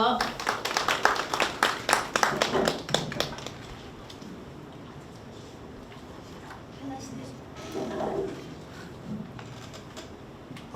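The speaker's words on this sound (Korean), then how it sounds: "박수로 맞아 주십시오." At a labor policy forum on the pet industry, an audience claps briefly to welcome a speaker, a short burst of moderate applause that fades into quiet room tone with a voice speaking afterward.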